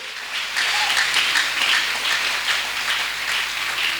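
A church congregation at a Sunday service claps hands together in steady, dense applause that fills the room evenly for about four seconds, with no talking over it.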